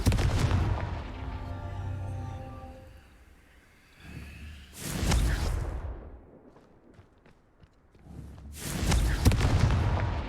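Confringo blasting curse fired in the Hogwarts Legacy video game: two loud, broadband explosive bursts about four seconds apart, each booming then fading, with a tonal game score underneath at the start.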